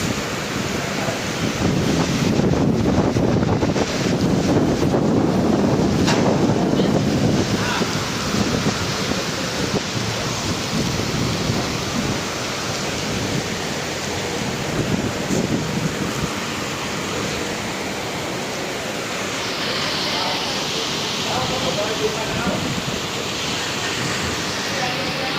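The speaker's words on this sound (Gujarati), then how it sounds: "પવન હાલે એકદમ જોરદાર." A strong wind roars and gusts over heavy rain in a storm in Wankaner, a loud continuous rushing wash that swells at the start and then settles into a steady downpour.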